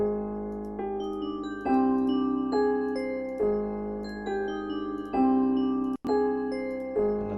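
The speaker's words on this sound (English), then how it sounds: "We're going to put a reverb on the bell." Sustained bell-like tones struck in a repeating pattern, each note ringing out with a long reverberant tail, clear and prominent with no voices.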